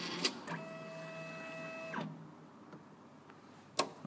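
EH3127 calibrator printing a test, a short steady mechanical whir of the print head lasting about a second and a half, bracketed by sharp clicks, close and fairly quiet with no talking.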